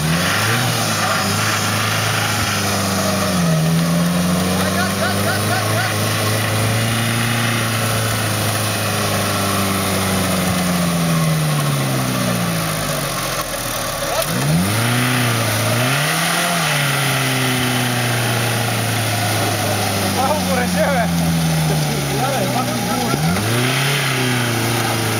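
An off-road car's engine revs hard on a rough off-road track, repeatedly climbing and falling in pitch as it accelerates, loud and close, with occasional voices nearby.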